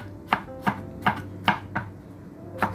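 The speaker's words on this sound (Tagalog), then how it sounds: "ganyan lang ang paghiwa ko guys, pa-slanting" A knife slicing bitter gourd (ampalaya) diagonally on a cutting board makes six sharp, evenly spaced chops, close and clear with no talk.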